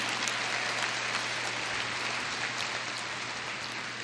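A church congregation applauds steadily throughout, a dense, even wash of clapping from a large crowd during a service, with a low hum underneath.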